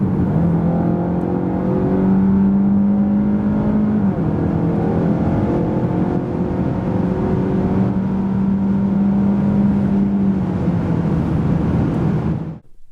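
A Peugeot 308 GT SW 2025 plug-in hybrid with a 1.6 petrol engine accelerates steadily from 90 to 140 km/h, its pitch rising in long stepped climbs with a brief drop in between, loud and continuous from inside the vehicle.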